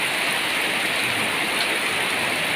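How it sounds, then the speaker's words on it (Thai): Heavy rain pours down in a constant, even hiss, dense and unbroken with no other sounds standing out. "ก็ฝนก็เทลงพอดีนะครับ"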